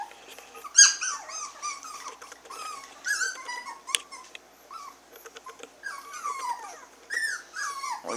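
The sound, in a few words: six-week-old Havanese puppies whimpering and squeaking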